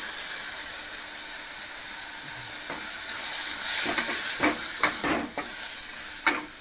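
Tomatoes sautéing in a hot pan as the base for a dried fish curry, with a steady hissing sizzle and, after a few seconds, a run of scraping taps from a utensil stirring them, close and without talking.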